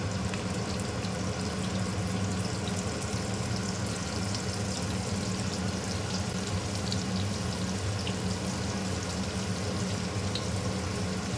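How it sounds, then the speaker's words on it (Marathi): Surmai (kingfish) coated in rava sizzles steadily in a frying pan, a dense, even crackle of hot oil running without pause and no voices over it. "कधी कधी डायरेक्ट सुरमईला पण सर्व लावते आणि मग रव्यामध्ये नुसतं घोळवते आणि फ्राय पॅनमध्ये टाकते"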